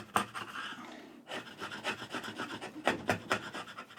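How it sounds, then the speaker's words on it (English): A double-bevel carving gouge cuts into a clamped piece of hardwood, giving a series of close, dry rasping strokes and scraping chips with short pauses between cuts. "Let's see how well we do with the gouge on this."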